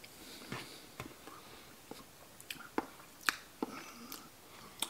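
Someone chews crunchy beef pemmican mixed with scrambled egg, close to the mic, with quiet, irregular crunches and soft squishy bites spread over about five seconds and no talking.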